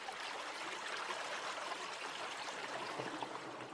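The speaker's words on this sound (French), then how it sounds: "C'est une petite rivière qui prend naissance dans cette vallée." A small river flowing in a valley, its spring-fed water making a steady, even, broadband rushing and trickling murmur, fairly faint and alone without voices.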